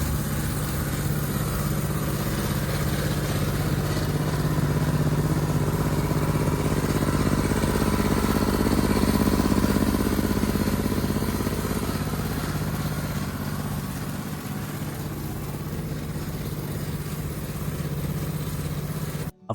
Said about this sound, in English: A fun and eye-catching NASCAR-style go-kart built for backyard driving and recreational use